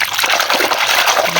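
Water splashing and trickling as a mud-covered animal is rinsed outdoors near a muddy hole, a loud close continuous wash lasting only a moment.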